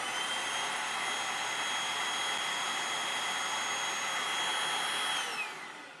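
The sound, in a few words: Eureka Blaze stick vacuum running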